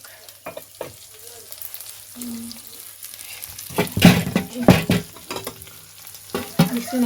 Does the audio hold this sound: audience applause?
no